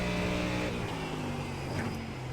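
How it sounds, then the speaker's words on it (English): Ford GT3 Mustang V8 roaring in the iRacing sim, a loud, harmonically rich engine note that drops in pitch as revs fall, then picks up again briefly, with no talking over it. "God, that V8 roars."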